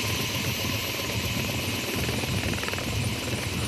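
Helicopter turbine and rotor running steadily and loudly close by at an airfield runway entry point during a beginner piloting lesson, a constant broadband roar with rhythmic blade thump.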